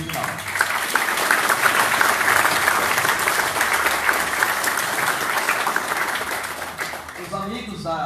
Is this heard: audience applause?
yes